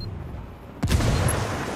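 A grenade explodes in the video game Ghost Recon Breakpoint with one sudden loud boom that rolls into a rumbling tail after a quiet moment, no talking.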